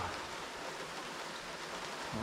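Rain falls outdoors in near-freezing cold during roadside work on a 2000 Chevrolet Tahoe Z71, a steady close hiss of drops that stays even throughout with no talking.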